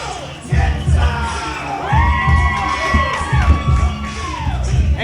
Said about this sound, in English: The crowd is getting hyped up.